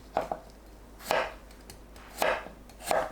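A knife chops potatoes into bite-size pieces on a cutting board in sharp, separate strokes, about five cuts at an uneven pace, close and clear with no talking.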